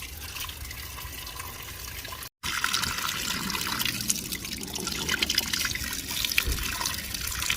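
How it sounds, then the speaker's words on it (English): Warm spring water flows up out of the ground in Buxton on a cold winter day, a steady close splashing trickle that runs without a break the whole time, with no voices over it. "warm water coming loose from the ground"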